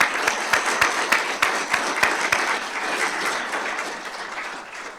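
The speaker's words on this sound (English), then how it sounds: "Have a round of applause for our certificate of appreciation." An audience at a fire and rescue services awards ceremony applauds, the crowd's clapping starting loud with sharp individual claps standing out, then thinning and tapering off over several seconds.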